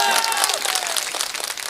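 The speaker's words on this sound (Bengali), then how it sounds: "আপনাদের জন্য একটা জোরে হাততালি নিজেরা দিন" A crowd at an election rally in Bhangar breaks into a burst of dense clapping, loud at first and then thinning, mixed with scattered voices and a brief whistle-like tone.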